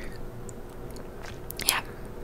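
Close, soft gum chewing in a quiet ASMR setting, with faint moist clicks and one brief sharper smack near the end.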